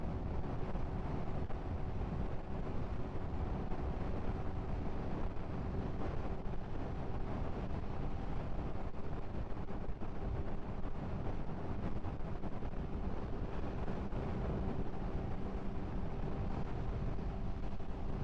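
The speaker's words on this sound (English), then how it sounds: "I don't know if you guys can hear the wind" Steady, dense wind buffeting roars across the whole stretch while a motorcycle cruises an empty highway, constant and close, with no talk over it.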